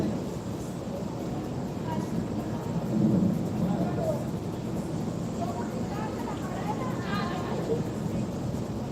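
Rumbling thunder rolls through a hyperactive Miami lightning storm, a steady low roar that swells briefly before settling back, with voices chatting faintly over it.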